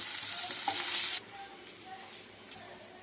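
Paneer frying in oil in a pan for veg biryani, a steady close sizzle that drops in level partway through, with faint stirring taps.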